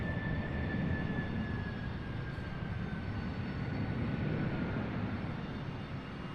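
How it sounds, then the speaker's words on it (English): A FedEx Boeing 767 lands at Raleigh-Durham airport with a steady, loud jet roar and a thin whine that slowly falls in pitch. No one speaks over it. "Nice touchdown by the 767 FedEx"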